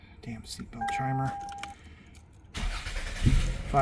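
A 1999 Toyota Camry with the 2.2-liter four-cylinder is started inside the car, following seatbelt-warning chimes; the engine catches at the end and settles into a steady idle.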